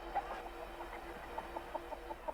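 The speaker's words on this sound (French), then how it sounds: "C'est un gallinacé, ce qu'on appelle un poulet." A cartoon chicken in an animated series clucks in a string of short, clipped calls that grow more rapid and evenly spaced toward the end, moderately loud and heard on their own without speech.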